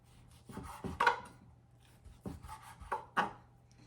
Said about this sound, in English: I'm going to cut up my bacon just in small pieces